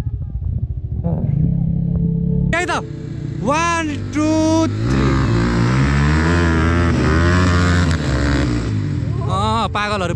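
Motorbikes race on a new dirt track, engines loud and near, revving up and down in rising and falling sweeps over several seconds, with voices heard amid the noise.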